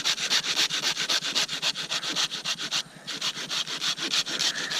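A hand saw cuts through dead, dry firewood at a fall campsite, giving steady rasping back-and-forth strokes, loud and close, with one brief pause partway through before the sawing resumes.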